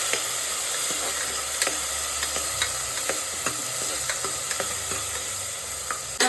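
Ginger garlic paste frying in hot oil for mutton liver fry, a steady close sizzle with occasional spatters and the scrape of a spoon stirring the pan.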